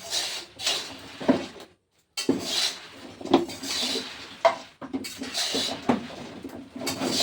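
A plastic bottle being handled indoors, irregular crinkling and knocking bursts close by, repeating over several seconds with a short silent break.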